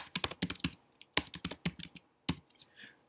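Keystrokes on a computer keyboard typing in a short name, quick clustered clicks in two bursts separated by a brief pause, close and clear with no talking.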